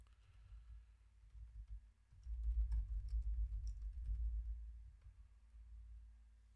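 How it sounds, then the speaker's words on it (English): Keys typed on a Pinebook Pro laptop keyboard while a function-key fault is being fixed, a soft, close run of light taps with a brief pause and then a steadier burst, no voices. "test out the keyboard here"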